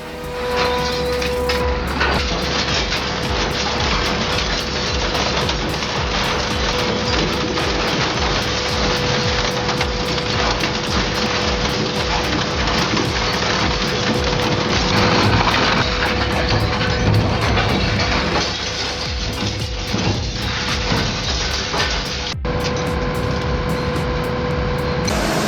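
An industrial shredder with dual cutting speeds grinds material in a continuous, loud, dense roar with crunching and splintering texture, steady for the whole stretch with a brief shift in tone near the end.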